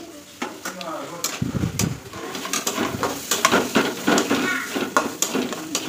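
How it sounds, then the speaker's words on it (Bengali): Poppy seeds fry in oil in a pan, a soft close sizzle under repeated clinks and scrapes of a utensil stirring, while someone talks over parts of it. "তো পোস্তগুলো দিয়ে দিয়েছি, একটুখানি দেখো জল ছেড়েছে"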